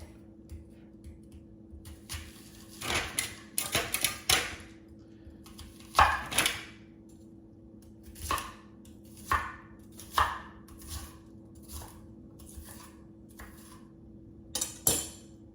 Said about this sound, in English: we're gonna take an onion and we're gonna chop it up